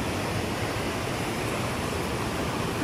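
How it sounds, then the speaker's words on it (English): Water rushes steadily through a river sluice gate, a dense, continuous broadband roar that stays even and loud throughout, with no voices. "It's a sluice gate."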